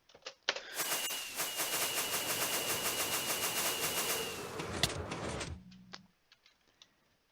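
Firework rockets boost elytra flight in the Minecraft video game: a rapid, crackling string of pops and ticks runs for about five seconds, then tapers into a few sparse clicks and near silence.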